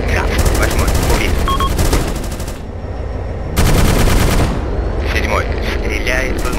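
Rapid automatic gunfire in Arma II, dense bursts of machine-gun fire with scattered shots and a brief lull before a loud renewed volley, continuous and close throughout.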